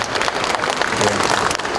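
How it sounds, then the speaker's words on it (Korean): Festival audience applauding at a campus town event in Seoul, a dense burst of clapping throughout a brief stretch, fairly loud and close. "박수 한번 보내드리시죠."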